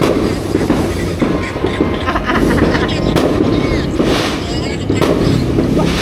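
New Year fireworks at midnight: dense, continuous rumbling bangs and crackles, loud and close, with people talking over the barrage.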